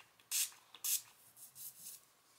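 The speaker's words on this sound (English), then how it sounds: "I'm literally just spraying it on my lace." Spray misted onto the lace of a wig, with two strong, close hissing bursts followed by several softer, shorter puffs.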